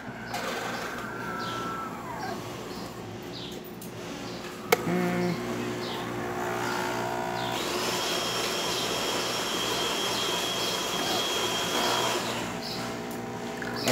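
A Delonghi Gran Dama Avant coffee machine with a coupling milk carafe hums and whirs as it dispenses coffee and milk foam, a steady mechanical drone with a click partway through, then a higher frothing whine.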